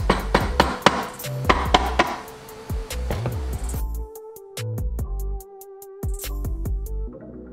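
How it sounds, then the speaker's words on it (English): A mallet taps the crankcase halves of a CR125 engine together during a rebuild, giving a series of sharp, close knocks, quick at first and then spaced further apart, with some ringing metallic clinks. "Here I'm just going to get a mallet and give it a few taps"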